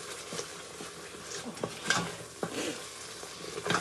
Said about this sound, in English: So I will just keep on gently sauteing this.